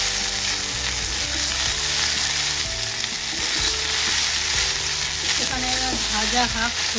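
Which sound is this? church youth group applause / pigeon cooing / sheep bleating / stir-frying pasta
stir-frying pasta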